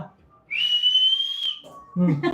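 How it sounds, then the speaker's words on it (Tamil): A pressure cooker whistle at home on a rainy day sounds one long, loud, steady shriek signalling the food is cooked, then cuts off as people begin talking nearby. "விசில் வந்தது மம்மம் ஆயிடுச்சு"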